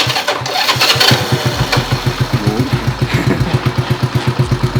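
A Honda C70 motorcycle turns over on its electric starter and catches, settling into a steady, close, rhythmic four-stroke idle.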